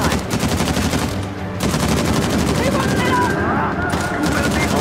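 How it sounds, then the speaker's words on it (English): Sustained machine gun fire in the Uncharted: The Lost Legacy video game, a loud rapid stream of shots with gunfire layered on top and no pause across the stretch. "Watch those snipers die as they mow them down with this crazy gun"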